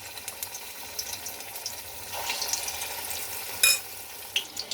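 Soya chunks are dropped into hot oil in a pan for chilli soybean, giving a faint, steady sizzle with small crackles and one sharper splutter as pieces hit the oil, quiet and close.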